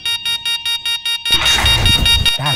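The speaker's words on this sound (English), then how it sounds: "Why is the alarm going off?" A house security alarm beeps in an even series of loud, regular pulses, then a louder burst of noise crashes in over it before the beeping resumes.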